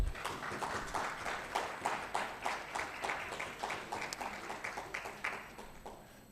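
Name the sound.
audience applause for Dr Abraham Agossou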